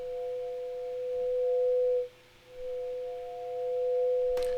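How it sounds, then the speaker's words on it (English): A steady synthesized sine-wave drone holds two pure tones, briefly dipping and cutting out midway before resuming, ending with a short click. "this sort of sounds like sine waves"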